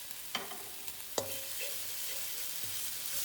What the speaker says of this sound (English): Stir that around, saute that for a little bit.